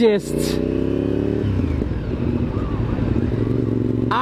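A motorcycle engine idles and then pulls away, a steady low rumble that rises as it gets going, with a voice talking over it near the end.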